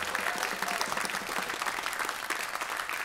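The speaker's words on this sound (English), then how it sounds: "How about a big round of applause for Mr." Steady audience applause at a bluegrass band show, greeting the band's bass player; dense, even clapping holds at moderate volume throughout, with no talk over it.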